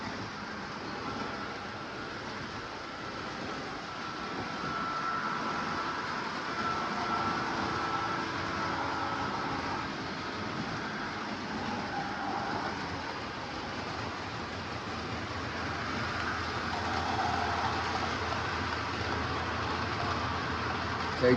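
A 1980 Lionel MPC-era Chicago and Northwestern FM model train with dual Pullmor motors runs steadily around O42 curves, a continuous faint whirring hum with soft rail clatter, close but quiet.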